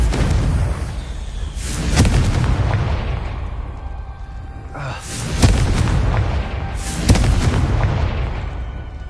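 Confringo fire spell blasts in the Hogwarts Legacy video game, three loud booming explosions at roughly two, five and seven seconds, each with a sharp crack and a rumbling tail over a low ambient drone.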